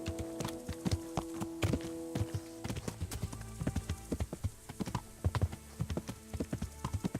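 Horse hooves clip-clop steadily on hard ground in the medieval Kingdom Come Deliverance video game, a close, rhythmic run of sharp hoof knocks that continues without talk.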